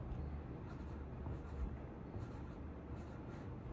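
Pencil or pen writing a word on paper, a faint continuous scratching and rubbing close by in a quiet room, with no talking.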